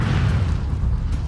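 An Incendio fire spell cast in the game Hogwarts Legacy makes a loud, heavy whooshing burst that roars on steadily for about a second.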